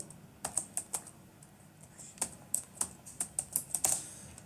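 Keystrokes on a computer keyboard, a sparse run of about a dozen crisp clicks with irregular pauses, close and fairly quiet against a faint room background.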